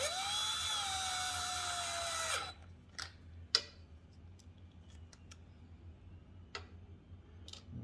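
A power driver tightens small machine screws on a Ryobi generator, giving a steady high whine for about two and a half seconds before stopping. A few faint clicks and taps follow in a quiet room.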